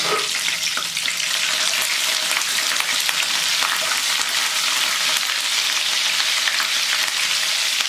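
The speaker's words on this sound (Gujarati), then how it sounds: "મરચાં અને આદુની જે પેસ્ટ છે એ ઉમેરી દેવાની છે એને તેલમાં શાંતળવાની" Chili and ginger paste sautéing in hot oil for a whole brinjal and peas curry, a loud, dense, unbroken sizzle with faint stirring underneath, steady from start to end.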